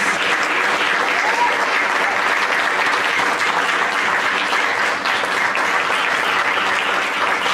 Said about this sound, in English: let's give another round of applause for our 5 inductees